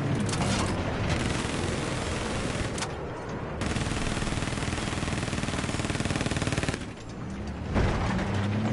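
Sustained video-game gunfire aimed at tanks, dense rapid bursts hammering almost continuously with only brief gaps, loud and close.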